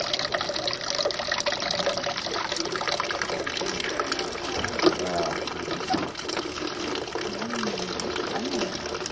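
Freshly pressed apple juice pours from a fruit press into a jug as a continuous gushing, trickling stream that holds steady and close, with faint voices in the background.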